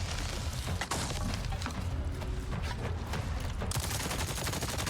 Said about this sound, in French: Ça va finir en mitraillette, ça va être vite fait.